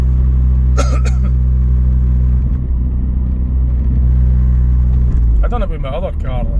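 Car engine running with exhaust silencers and catalytic converters removed, a loud continuous low droning rumble that steps down slightly partway through, with someone speaking briefly at the start and near the end.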